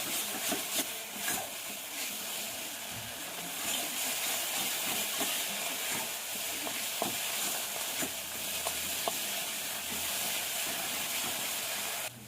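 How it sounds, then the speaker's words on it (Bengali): A spice paste with turmeric is stir-fried in oil for jackfruit kalia, making a continuous loud hissing sizzle with scraping strokes of a spatula throughout and no voices. "এবার মশলাটা ভালো করে কষাতে হবে।"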